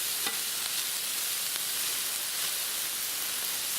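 Chicken sausage and peppers sizzle steadily on a Blackstone griddle, a loud continuous hiss with faint scrapes of stirring and flipping on the hot flat top.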